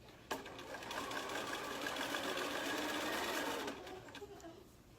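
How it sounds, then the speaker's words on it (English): A sewing machine runs a steady zigzag stitch through wool felt, one continuous close mechanical whirring run of about three seconds that stops cleanly, followed by quieter handling. "I'm gonna zigzag all the way down and then do a little back stitch at the very end down here."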